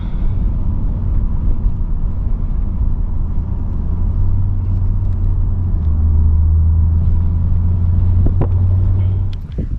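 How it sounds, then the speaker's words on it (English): A 2008 Lexus GS460 V8 heard from inside the cabin while driving gives a steady, loud low rumble of engine and road noise, and a deeper droning tone rises in the middle stretch as it accelerates. "that was our first POV drive on the Lexus GS460"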